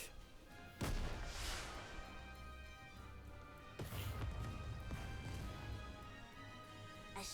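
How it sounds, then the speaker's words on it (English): Rocket launcher shell fired and exploding across a snowfield in the game Goddess of Victory: Nikke, with a sharp loud burst near the start, a second heavy impact midway and dense rumbling crashes under game music. "a shell flies from the rocket launcher. And a resounding explosion causes the entire snowfield to be blanketed in thick plumes of white smoke."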